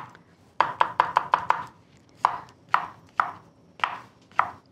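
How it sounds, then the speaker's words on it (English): Knife rough chopping shallots on a cutting board, a quick burst of five or six sharp close taps followed by slower, spaced single chops. "Now I'm just cutting some shallots."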